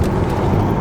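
Tesla Model 3 Performance, a 2019 electric car, accelerating hard while overtaking, with a steady low road and tyre rumble that stays loud and even through the short burst.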